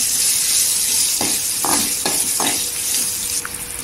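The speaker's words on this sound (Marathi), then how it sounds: "पावडर टाकायची, अर्धी चमचा टाकायची, आणि मिक्स करून घ्यायची" Boiled lemons and chilies sizzle in a pan as spice powder is mixed in, a steady hiss broken by several distinct spoon scrapes and stirs, with no voices.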